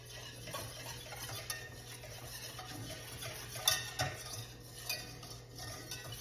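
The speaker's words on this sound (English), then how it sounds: "We're gonna take the egg yolk mixture and stir it into the flour and sugar mixture." Whisk or spoon stirring an egg yolk and milk mixture into a flour and sugar mixture in a bowl for a no-bake banana pudding cheesecake, with soft, steady scraping and a few light clinks against the bowl, fairly quiet throughout.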